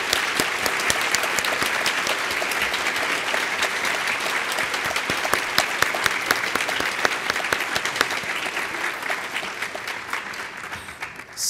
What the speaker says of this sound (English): So please, just one more round of applause for the whole group.